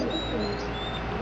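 A white homing pigeon coos softly in a garden, a faint, low murmur over steady broadband background noise with a few high thin bird tones drifting above, nearby but not loud.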